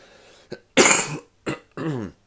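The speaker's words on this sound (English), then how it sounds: "Forgive my random cough" A man gives several short, harsh coughs close to the microphone, four separate bursts over about two seconds with brief silences between them.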